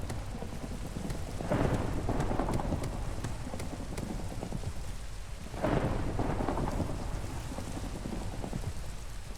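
Steady rain pours down in a Minecraft world, broken by two swells of thunder rolling in and fading, with no voices over the downpour.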